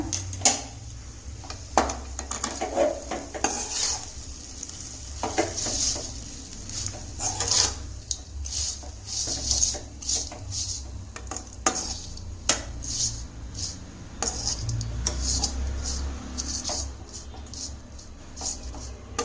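Tomato sevai being stirred and tossed in a pan, giving a steady run of soft scraping and light clinking from the utensil against the metal, with no talking.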